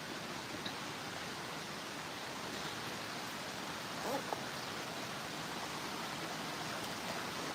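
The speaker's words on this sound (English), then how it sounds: "Love a good water feature." Steady rushing splash of an outdoor water feature at Disney's Animal Kingdom Lodge, a constant broadband wash of falling water that stays even and fairly close throughout, with no talk over it.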